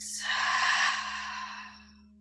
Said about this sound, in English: Take a big full breath in and a big full breath out.